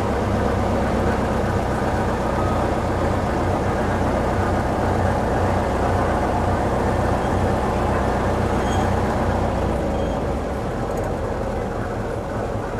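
A deep, rumbling engine of a 1922 Isotta-Fraschini Tipo 8 idles steadily throughout, a continuous low burble with no pauses.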